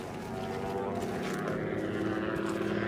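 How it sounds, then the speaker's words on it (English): An airplane takes off with a steady, droning engine roar that builds slightly and holds, fairly loud and continuous, with faint voices in the background. "Hey, an airplane's taken off."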